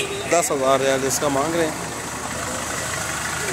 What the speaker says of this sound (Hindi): इंजन में साउंड आ रहा है थोड़ा सा